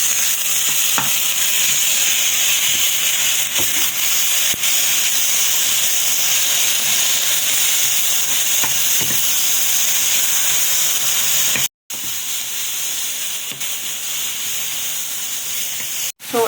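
Chicken breast frying in a pan, a steady close sizzle and hiss running throughout with faint occasional stirring clicks, briefly cut off near the end.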